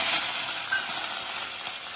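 Ginger and chili fry in oil in a kadhai, giving a steady, bright sizzling hiss that holds evenly throughout.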